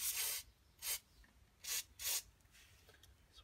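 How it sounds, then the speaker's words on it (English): Four short hissing bursts from a WD-40 aerosol can sprayed while bleeding car brakes, close by and fairly quiet, separated by brief pauses. "we're going to spray this side now"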